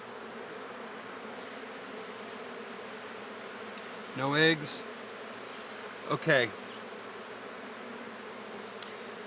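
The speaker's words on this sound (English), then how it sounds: "you can see there's lots of bees in here" Honeybees hum steadily around an open backyard hive, a constant close buzz throughout, with a person briefly speaking twice over it.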